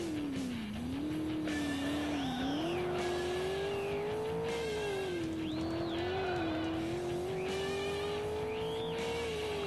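Ford Mustang racing in a video game, with a loud, continuous engine note rising and falling through corners and repeated tire squeals and skids layered on top, with no talking.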